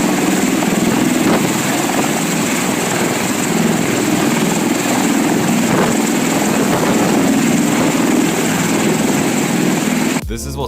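A V-22 Osprey tiltrotor flying in helicopter mode gives a loud, continuous rotor and engine roar that holds steady for about ten seconds before cutting off abruptly.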